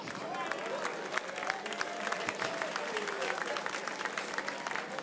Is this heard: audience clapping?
yes